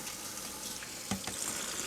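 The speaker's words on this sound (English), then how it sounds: "Put some cold water on it immediately." Cold tap water runs onto freshly drained noodles in a kitchen sink, a faint steady splashing stream with a brief gush partway through.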